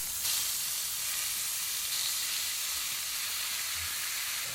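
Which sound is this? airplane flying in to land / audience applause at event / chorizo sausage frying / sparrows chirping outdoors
chorizo sausage frying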